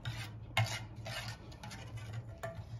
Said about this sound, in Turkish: Şimdi çorbamızın nanesini yakıyorum.